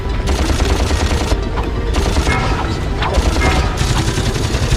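A rapid machine-gun-style weapon fires in the Ratchet & Clank video game during a fight against a helicopter, a dense, continuous burst of gunfire layered over loud game effects for the whole stretch.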